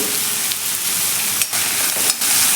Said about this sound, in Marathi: कांदा टोमॅटो परतत आहे